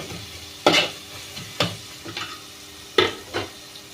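Prawn pakoda gravy cooks in a pan over high flame with a soft constant sizzle. A spoon stirs it in a few sharp, separate scraping strokes, the loudest near the start and again later.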